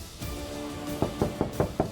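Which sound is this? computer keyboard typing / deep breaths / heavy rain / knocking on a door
knocking on a door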